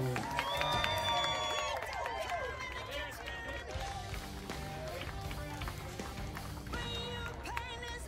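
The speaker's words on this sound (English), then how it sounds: "They are cheering for you to eat a lot of burgers today." Crowd cheering at a burger eating contest, a lively mass of voices and whoops under music with a spoken announcer over it, holding at a steady moderate level throughout.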